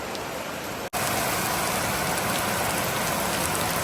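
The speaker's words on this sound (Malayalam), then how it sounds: "കുറച്ച് സമയം മഴ കാണാം അല്ലേ" Steady, dense rain falling during the monsoon-season Onam holiday in Kerala, a loud continuous hiss that briefly cuts out near the start, then resumes unbroken.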